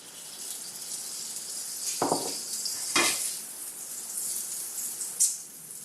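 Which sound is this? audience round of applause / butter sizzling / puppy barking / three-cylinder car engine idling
butter sizzling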